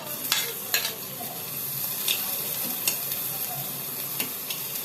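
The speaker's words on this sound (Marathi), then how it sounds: "त्याच कढईमध्ये थोडंसं तूप टाकून त्याच्यामध्ये बारीक चिरलेला कांदा आपण भाजून घेणार आहोत" Finely chopped onion fries in ghee in a kadhai with a soft, steady sizzle, punctuated by several sharp scraping stir strokes close by.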